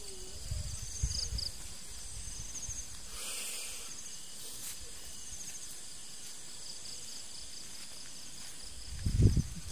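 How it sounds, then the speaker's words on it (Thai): Crickets chirp faintly and steadily at night beside a tent at a campsite, with occasional nearby rustling and handling bumps. "จิ้งหรีด"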